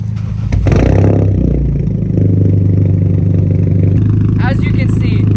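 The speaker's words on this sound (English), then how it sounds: "the idle on the straight pipe is way louder" Idling 2013 Hyundai Genesis Coupe 2.0 turbo with a straight pipe exhaust, a loud, steady low rumble held throughout with a brief rise early on, while a person talks over it.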